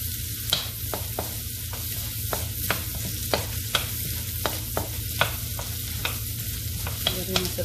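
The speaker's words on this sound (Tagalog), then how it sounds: "Saute lang natin itong sibuyas. Then, saka natin isunod yung bawang or garlic." Onion and garlic sautéing in a pan, a constant close sizzle broken by regular sharp clicks of a utensil scraping and tapping the pan at a steady stirring rhythm.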